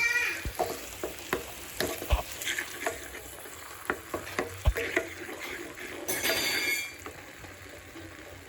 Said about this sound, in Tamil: இதில் முட்டையை உடச்சி இதில் ஊற்ற போகிறேன்.